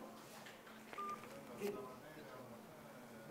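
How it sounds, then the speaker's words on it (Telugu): Telephone keypad tones sound while a call is dialed from another phone, a couple of short, faint beeps near the one-second and middle marks over quiet background noise. "మీకు వేరే ఫోన్ నుంచి కాల్ చేస్తాం"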